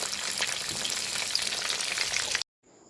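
Hot oil crackles steadily around prawns being deep-fried, a close, busy sizzle that cuts off abruptly near the end, leaving only a faint low hum.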